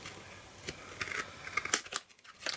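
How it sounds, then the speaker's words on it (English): Scissors trimming excess paper off the edge of a handmade greeting card, giving a few quick, crisp snips at close range, spaced irregularly over a couple of seconds with no talking. "Turn it over and trim the excess off."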